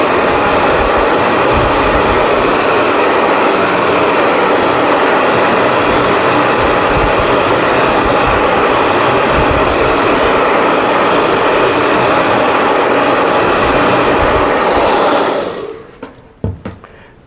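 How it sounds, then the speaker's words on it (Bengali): A dryer blows hot air over silver ink freshly printed on an umbrella, a loud steady whooshing roar lasting about fifteen seconds before it shuts off and a few small clicks follow. "আমি ড্রায়ার দিয়ে শুকিয়ে নিচ্ছি।"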